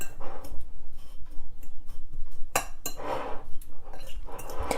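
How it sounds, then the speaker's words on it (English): Parmesan, breadcrumbs and dried parsley being mixed in a bowl, with a steady run of close utensil scrapes and light clinks against the bowl, quick and rhythmic, with no voices. "now we're just gonna mix it pretty well"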